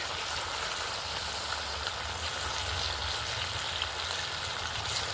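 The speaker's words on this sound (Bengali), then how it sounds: "এবারে এগুলো একটা একটা করে তেলের মধ্যে ছেড়ে দেব।" Stuffed crispy snacks fry in a pan of hot oil, giving a steady, dense sizzle and bubbling that holds evenly throughout, close and fairly loud, with no voices.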